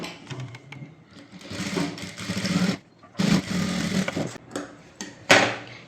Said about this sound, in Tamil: இந்த லைனிங் மேலே இந்த ஓரமாக ஒரு பதிசு தையல் போடுங்க